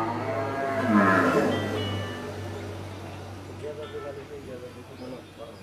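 A dairy cow at a Bangladeshi farm lets out a low, drawn-out moo that swells and fades, with farm background noise and a person talking alongside.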